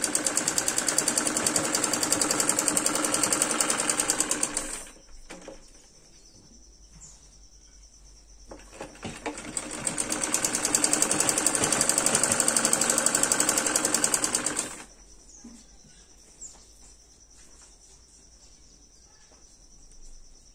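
A sewing machine stitches piping onto a salwar in two long runs of fast, steady mechanical whirring, close and fairly loud, separated by a quiet pause and followed by near silence.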